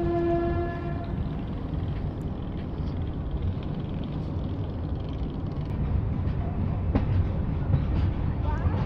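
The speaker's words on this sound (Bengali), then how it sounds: "বালাসোর থেকেও ট্রেন ছেড়ে দিয়েছে" The Dhauli Express pulls out of Balasore station. It opens with a brief horn blast, followed by a steady loud rumble and rattle of the rolling train building through the rest of the run.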